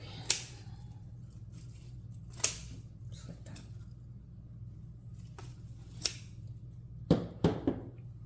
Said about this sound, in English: Cut this off a little bit because it is in the way.